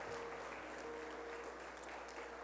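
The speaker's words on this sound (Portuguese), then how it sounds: "Dê para Jesus uma linda e forte salva de palmas" A church congregation gives a round of applause at an evening worship service, a steady, fairly faint wash of clapping with a faint sustained tone beneath it.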